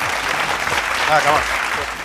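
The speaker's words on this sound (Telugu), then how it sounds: "ఒకసారి గడిగా క్లాప్స్ కొట్టండి వెంకటేష్కి" Audience applause for a student named Venkatesh at a junior college game show in Nalgonda, a steady wash of many hands clapping close by that swells slightly mid-way, with a brief voice cutting through.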